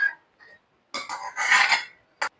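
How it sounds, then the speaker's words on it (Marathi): Cabbage and chana dal curry scraped from a wok into another pot: a few short metallic scrapes and clinks of a spoon against the pan, close and clear, with brief pauses between strokes and no talking. "आपण लगेच दुसऱ्या भांड्यात काढूया."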